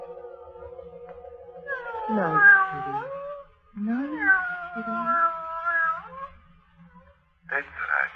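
A cat in a radio drama gives several drawn-out, wavering meows and yowls, close and clear, with a short gap before a final cry.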